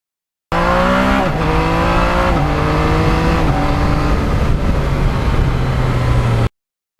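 A 2020 Yamaha MT-09 motorcycle with lowered forks being ridden along a winding switchback road: a loud, continuous engine drone whose pitch steps up and down through the gears, close and steady throughout, with no talk.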